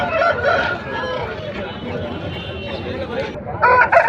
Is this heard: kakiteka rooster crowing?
yes